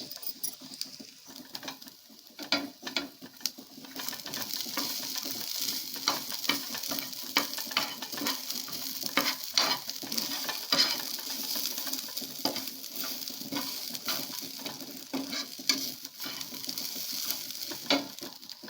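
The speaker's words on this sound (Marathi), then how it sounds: "मी सुकं खोबरं घातले, कापून घातले। त्यांना भाजून घेऊया।" Cut dried coconut dry-roasts in a pan while being stirred, a close, steady sizzle broken by frequent scraping and rustling strokes of the stirring, with no talk.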